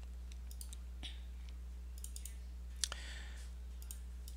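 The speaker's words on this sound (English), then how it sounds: "now you're going to go and you're going to right click" Computer mouse clicks during a Linux desktop software setup, a few sharp, faint clicks scattered over a steady low hum, alone with no talk.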